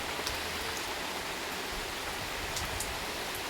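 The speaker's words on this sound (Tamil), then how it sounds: "நல்லா சாரல் அடிக்குது" Light drizzling rain in Karaikudi, a steady soft hiss of fine drops with wind, even and continuous throughout, no voices.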